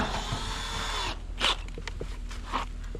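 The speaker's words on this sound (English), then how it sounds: "Now it's time to drill some pilot holes" Power drill boring pilot holes into a boat hull, a loud steady whine for the first second that stops abruptly, followed by a few short bumps and scrapes.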